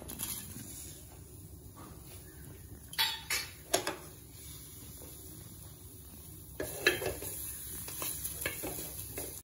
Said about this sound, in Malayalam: നമ്മുടെ വേപ്പില ഫ്രൈ ചെയ്തെടുക്കുക.